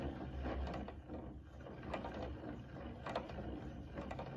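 A yarn ball winder winds off the last of a skein of yarn with a faint, steady mechanical whirr and light gear-like clicking, quiet throughout and without talk.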